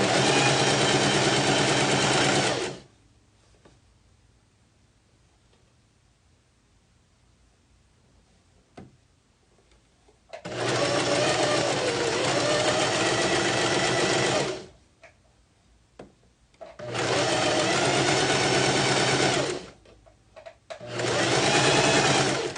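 A sewing machine stitches a hem on a circle skirt in three long runs of steady, loud mechanical whirring, separated by quiet pauses with faint handling clicks.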